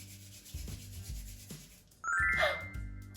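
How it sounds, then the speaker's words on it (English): Hands rubbing together in a children's phonics lesson, a dry swishing friction in short repeated strokes, followed by a bright magical chime and twinkling shimmer, over a soft steady musical backing. "Rub your hands together to reveal the new letter."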